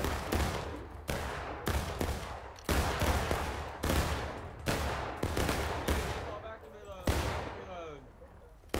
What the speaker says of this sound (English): Fire south, southwest.